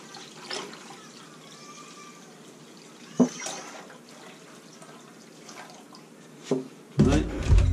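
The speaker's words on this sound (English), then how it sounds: "So I'm going to add the rest of the gallon into the pot." Water poured from a gallon bottle into a pot, a faint trickling splash with a few clunks and knocks, ending in a louder rush of liquid near the close.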